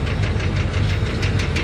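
A Duramax LML diesel truck engine runs steadily at close range with a rough, knocking noise under a constant low drone, with no voices.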